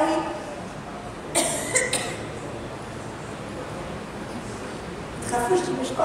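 A person coughs sharply in a lecture hall during a thermodynamics and fluid mechanics class, a couple of quick bursts near the start and another near the end against a steady room hiss.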